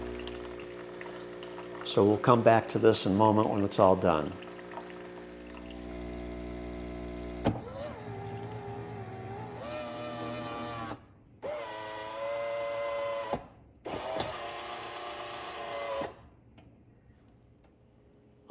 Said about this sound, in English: it's just flushing all that water and vinegar out of the system completely